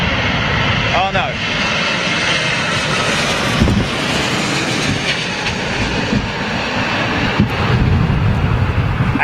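Avianca Boeing 787 Dreamliner landing at London Heathrow in strong crosswind, a loud continuous jet engine roar with rushing wind noise throughout, while people talk excitedly nearby.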